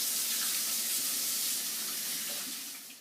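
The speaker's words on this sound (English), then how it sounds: "we have to wash our hands." A steady rush of running tap water as hands are washed at a kitchen sink before making doughnut batter, a constant close hiss that eases slightly at the end.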